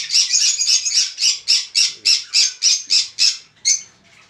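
Caged lovebirds and cockatiels give a run of about a dozen loud, harsh squawks in a steady rhythm, close and clear with no talk, before trailing off into quieter calls.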